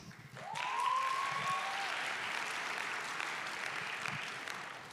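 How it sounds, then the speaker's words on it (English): Audience applause at a college prize-giving ceremony, a broad steady wash of clapping that swells in quickly and holds for several seconds, with a faint whistle or tonal sweep near the start. "Let's give them a round of applause."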